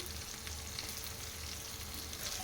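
Pieces of fish fry in hot oil with a steady, continuous sizzle and crackle at a moderate level throughout, with no voices.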